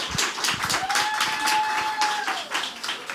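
An audience applauds a city psychologist being welcomed on stage, with dense, steady clapping from many hands throughout and a faint sustained tone running under it.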